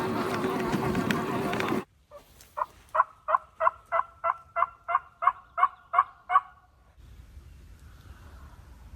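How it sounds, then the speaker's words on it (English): A wild turkey gobbler calls from a swamp, a far-off gobble of about a dozen quick evenly spaced notes that follows a brief burst of rustling close to the microphone. "we just heard a gobbler"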